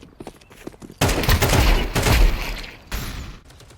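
Rapid gunfire from a first-person shooter aim-training session, a loud, close burst of overlapping shots that lasts about two seconds, followed by a few more scattered shots.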